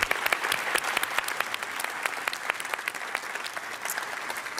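Audience applause for the speakers of a panel discussion, steady dense clapping throughout, moderately loud and close, with no voices on top.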